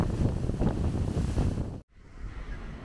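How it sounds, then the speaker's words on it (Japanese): Strong wind gusts roar steadily between buildings near Takatori Station in Kobe, broadband and buffeting, with a brief dropout before the rushing resumes. "ビルの間を強風が吹き抜けていきます。"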